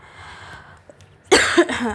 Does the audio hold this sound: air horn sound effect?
no